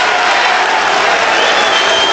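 A New York crowd at the 2006 NBA Draft cheers as the Sacramento Kings take Quincy Douby from Rutgers, with a dense, sustained roar of cheering and applause filling the hall and no talk over it.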